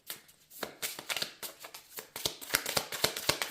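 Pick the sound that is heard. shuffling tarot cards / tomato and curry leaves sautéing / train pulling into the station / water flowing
shuffling tarot cards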